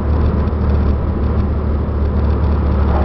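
A Ford Bronco II 4x4 with a V6 and five-speed manual transmission cruises in fifth gear, a loud, steady low engine drone with road rumble and no changes in pitch.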